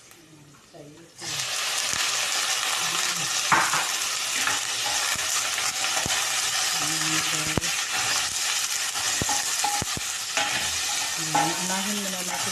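Chayote drops into a pan of sautéed garlic and onion, and a loud, sustained sizzle bursts up after a quiet start. Spatula clacks and scrapes break through the sizzle as a voice talks over it.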